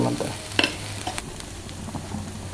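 Onion paste with turmeric and garam masala being stirred and fried in a pan for egg curry: a steady close sizzle broken by a few sharp scrapes and clinks of the spoon against the pan.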